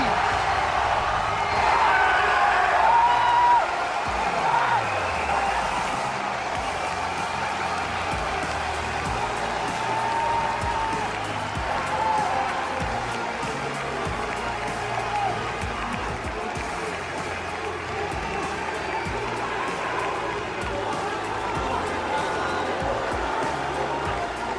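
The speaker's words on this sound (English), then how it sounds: "Listen to France as they are cheering" Crowd noise from a packed arena during the MSI 2018 League of Legends esports grand final in France, a sustained broad roar of cheering that stays loud and steady throughout with no clear breaks.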